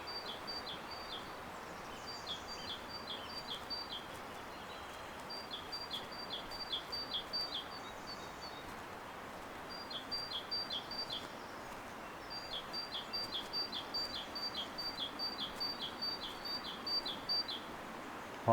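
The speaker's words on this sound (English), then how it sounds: "What an amazing sounding bird." Small birds sing beside a river, their bright chirping phrases repeating in bursts over a steady wash of flowing water, fairly close and clear, with faint rustling in the background.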